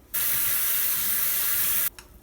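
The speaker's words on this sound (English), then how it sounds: "Add some water" Water pours steadily into a cooking pot for rice, a loud unbroken rushing stream lasting under two seconds that starts and stops abruptly.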